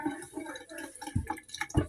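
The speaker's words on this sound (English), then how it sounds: "The water splashed too much and I'm trying not to let it splash on my cake" Water splashing and dripping into a kitchen sink while cornbread is rinsed out by hand, quiet, close and uneven, with irregular splashes and small drips and no talking.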